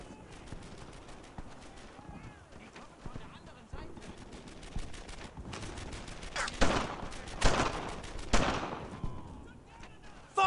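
Gunfire from the Brothers in Arms: Earned in Blood video game rattles in rapid bursts and scattered shots, building to louder volleys later, with shouted voices mixed in among the battle noise.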